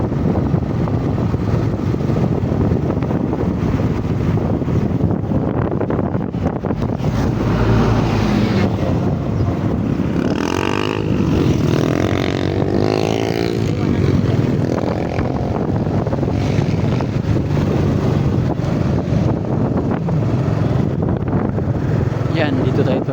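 A small motorboat engine drones steadily at speed, a continuous low rumble overlaid with wind buffeting the microphone and rushing water, with a voice talking over it.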